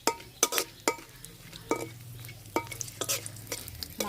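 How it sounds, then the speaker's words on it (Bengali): Whole bay leaf, cardamom, cinnamon, clove and black pepper fry gently in oil left from frying katla fish, a soft low sizzle broken by intermittent sharp spoon scrapes and clinks against the pan. "মশলাটা একটু হালকা ভাজে নিলাম"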